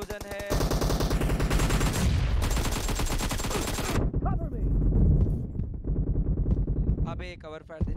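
Rapid bursts of automatic gunfire rattle through a four-versus-four team deathmatch video game, dense and loud for several seconds before thinning into scattered shots. Players talk over the shooting.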